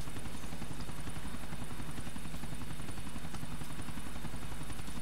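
A helicopter flies in GTA 4, its rotor throbbing in a loud, constant drone with fast chopping pulses that never let up, and no one speaks.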